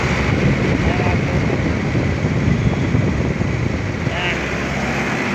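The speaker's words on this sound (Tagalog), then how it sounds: "napakaingay po ng compressor" An air conditioner outdoor unit's compressor runs with its cover off, giving a loud, steady, broadband mechanical roar that continues unbroken and close to the microphone.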